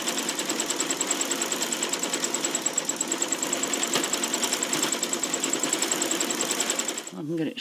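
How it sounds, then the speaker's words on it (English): A sewing machine runs steadily for thread painting over yellow and purple stitching on a blossom scallop design, a loud, close, fast rhythmic whir that stops near the end with a brief rattle. "I'm stitching over the yellow and over the purple and also extending the design."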